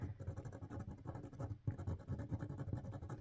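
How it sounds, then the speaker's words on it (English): A fineliner pen cross-hatching shadow areas of a tree sketch on paper, a close, quick, rhythmic scratching of short strokes with a brief pause midway. "I'm still actually treating my fineliner very much as a pencil, just working it very quickly"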